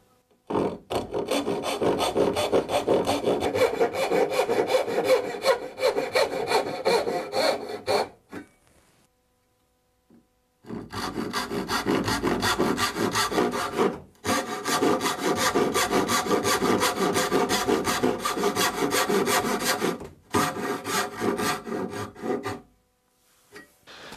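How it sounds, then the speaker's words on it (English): A miter saw cuts the shoulders of a wood tenon for a tool cabinet build with rhythmic, rasping strokes, close and clear, in three runs separated by short pauses. "I'm using my miter saw to cut the shoulders here"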